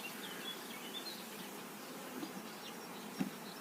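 Bees buzz faintly and continuously as they are settled into mating nucs, a soft diffuse hum with a small knock near the end.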